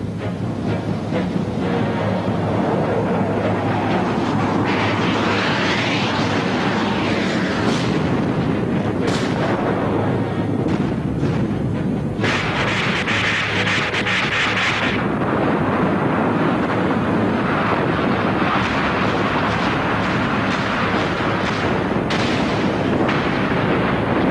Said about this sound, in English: A daylight naval assault along the Baltic coast of West Germany, backed up by heavy Soviet bombing.